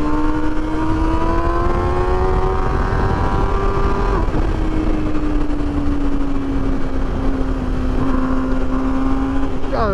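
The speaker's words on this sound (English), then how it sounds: "This motor sounds so angry." A 2021 MV Agusta Brutale 1000 RR inline-four motorcycle engine revs loud and close, its snarling tone rising and falling steadily through the ride.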